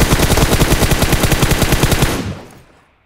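A rapid burst of automatic gunfire in a video game, loud and close, with evenly spaced shots in a fast rhythm for about two seconds before cutting off and fading into a short tail.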